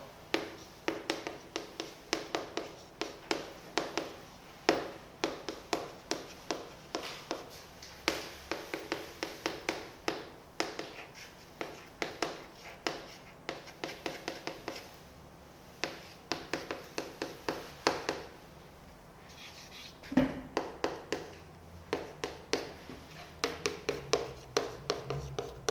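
Chalk or a marker taps and scratches on a board as a math problem is written out in a classroom, a quiet run of short irregular strokes with a brief pause near the end.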